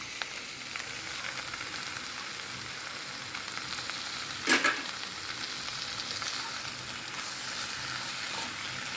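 Squid pieces and prawns sizzle steadily in a hot pan, with a constant close hiss of frying oil and a brief louder crackle midway as the seafood is stirred.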